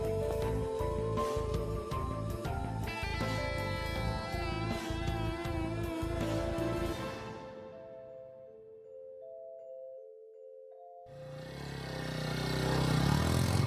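A motorcycle engine runs with a rapid pulsing beat, then sputters and dies away into near silence before a noisy burst returns at the close.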